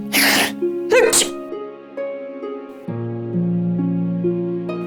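Two sharp sneezes from a person in a Hindi TV drama scene, one right after the other near the start, heard clearly over steady background music.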